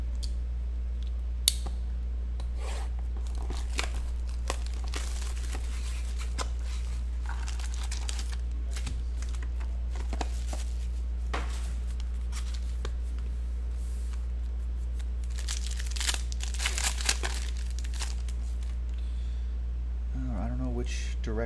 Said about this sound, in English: let's open up these two boxes